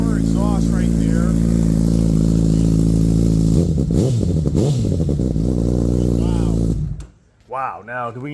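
A Honda Grom with a Yoshimura exhaust holds a loud, steady engine note up close, blips a couple of quick revs midway, then drops out abruptly as a voice begins talking.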